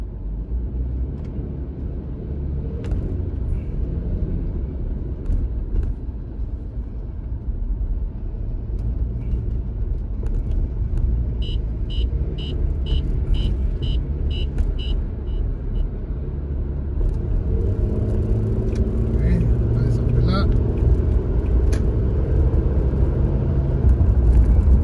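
A car rumbles along in slow traffic near home after leaving an exit, with a steady low engine and road drone, a faint chirping signal midway, and a rising rumble toward the end.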